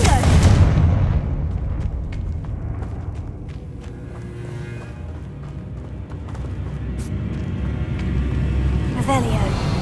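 A Confringo fire spell blasting in Hogwarts Legacy inside a catacomb: a loud, booming explosion bursts at once, then a rumbling roar slowly tails off, with a voice talking over it and another faint impact near the end.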